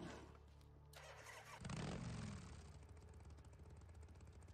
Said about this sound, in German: Und nur eben hier eben das Motorrad holen.